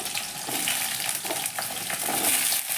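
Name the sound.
potato and squash frying in oil in a wok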